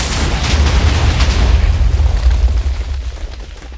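Redstone-triggered explosions in the Minecraft video game go off as one loud, close, rumbling boom that swells heavily and then fades over a few seconds, with no talking.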